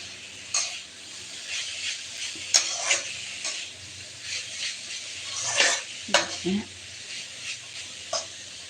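Vegetable bhaji frying in a pan is stirred with a utensil, giving a steady sizzle broken by repeated scraping knocks and clinks of metal against the pan, close and fairly loud.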